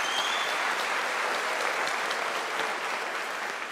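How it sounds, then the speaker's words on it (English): Crowd applause for Dr. Anne Grava at a University of South Africa autumn graduation ceremony, a dense, even wash of clapping that holds steady at moderate volume without talk. "Ladies and gentlemen, can we give Dr. Grava a round of applause?"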